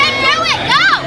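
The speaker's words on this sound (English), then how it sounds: "Her family and friends in the crowd are cheering for her" A crowd of family and friends cheers and shouts at a ninja competition for a young female competitor on stage 1, with excited rising voices over a brief loud burst of crowd noise.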